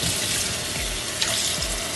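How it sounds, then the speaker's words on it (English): Tap water runs into a kitchen sink while chicken feet are washed under it, a close, steady splashing hiss with small shifts as the feet move through the stream. "So then wash these chicken feet."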